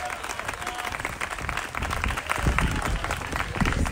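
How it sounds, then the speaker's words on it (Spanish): A congregation claps in praise at an outdoor evangelistic campaign in Plaza El Recreo, Trujillo, Peru, with dense crowd clapping that grows fuller partway through and a few voices mixed in. "¿Cuánto le dan palmas de alabanza al Señor, hermano?"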